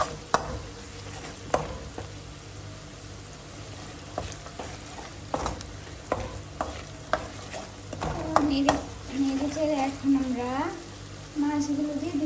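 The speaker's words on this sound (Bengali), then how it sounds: "এখন নেড়ে চেড়ে নিব।" Fish spices with turmeric and chili stirred in a hot pan, giving a sizzle broken by sharp spatula scrapes and knocks, while a voice speaks faintly in the background toward the end.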